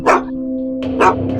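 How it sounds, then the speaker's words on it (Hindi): A dog barks twice, about a second apart, with a loud, close yap each time, and a steady hum runs underneath. "फिर ये कुत्ता क्यों भौंक रहा"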